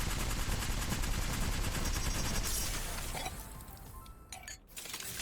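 Rapid automatic gunfire from the Apex Legends video game rattles loudly and continuously for about three seconds, then thins into sparser shots and clinks as the burst trails off.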